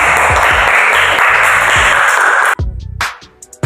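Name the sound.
classroom applause for a student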